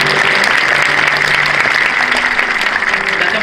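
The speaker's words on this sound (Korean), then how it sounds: "다시 한번 뜨거운 박수 하도록 하겠습니다" A congregation applauds at a church ordination thanksgiving service, a dense, steady wash of many hands clapping at once that holds loud and even throughout with no talk over it.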